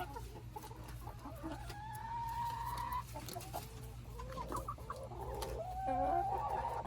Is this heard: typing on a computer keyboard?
no